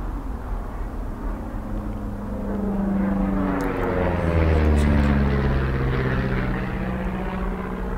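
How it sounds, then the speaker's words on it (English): In the video game Firewatch, a propeller airplane passes overhead with a low droning hum that swells to its loudest at midpoint, its pitch sliding downward, then slowly fades as it moves away. "See that plane?"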